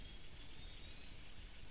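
In a VR helicopter simulator, electrical power feeding the aircraft's components gives off a faint, steady whine with a thin high tonal hum over low noise, continuous and unchanging.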